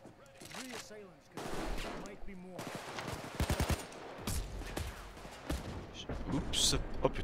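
A player fires a gun repeatedly in a bank heist video game, with loud close shots in quick clusters and scattered single blasts, mixed with someone talking over much of the action.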